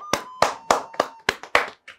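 Several sharp claps from a small group on a Yoruba-language quiz game show, about seven distinct strikes in an irregular rhythm, close and fairly quiet.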